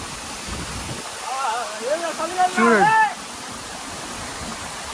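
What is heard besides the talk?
Katiki waterfall rushing water, Araku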